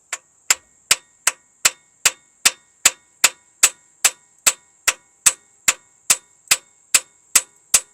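Sharp metallic hammer strikes on a seized Slant Six engine with a stuck valve ring out in a steady rhythm, about two blows per second, each with a bright clanging ring.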